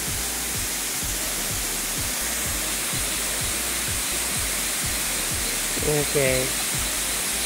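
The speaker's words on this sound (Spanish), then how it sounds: "Esta es la primera cascada." Steady roar of the El Altar waterfall in Gamelotal, Lara State, Venezuela, rushing nearby, broadband and constant, with a voice briefly speaking near the end.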